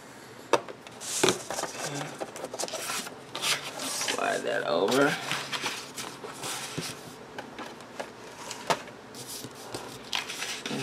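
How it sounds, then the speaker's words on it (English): Scoring a paper envelope flap for a planner envelope template gives a close, irregular scraping and rubbing with intermittent taps and clicks, fairly quiet throughout. "And I need to score my flap at 1 3/4 inches."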